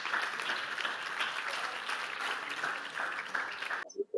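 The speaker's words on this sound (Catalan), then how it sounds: "Un aplaudiment també." Audience applause at a school anniversary event, dense and sustained for several seconds before cutting off abruptly near the end.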